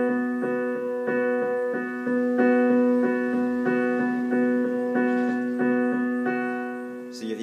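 Piano playing a repeated rhythmic pattern from a song, a sustained note with regularly struck chords about twice a second, clear and close, with no talk.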